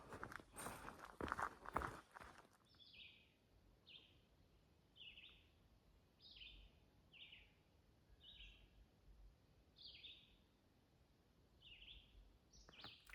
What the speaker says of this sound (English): That last clip was just for you to hear the birds